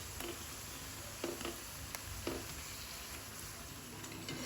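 A potato tikki roasting on a hot tava griddle gives off a steady, low sizzle, with a few soft scrapes or presses breaking through. No one speaks.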